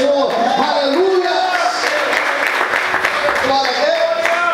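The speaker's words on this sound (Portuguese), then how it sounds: "Você pode aplaudir ao Senhor." A church congregation claps steadily for about four seconds as a dense wash of applause, with voices calling out and a voice rising over it.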